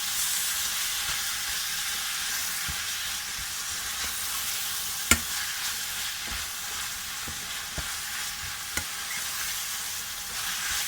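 Spaghetti stirred through a tomato chutney sauce with garlic, chilli and onion in a hot pan, giving a steady loud sizzle with soft scraping and a few sharp clicks from the spoon, no voices.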